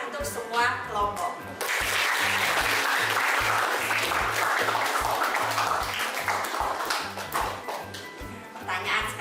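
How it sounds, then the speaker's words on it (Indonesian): Classroom of students applauding all the groups in a teacher-training lesson, steady dense clapping filling most of the stretch after a brief lead-in, with a repeating tonal pattern underneath. "sekali lagi saya berikan tepuk tangan untuk semua kelompok."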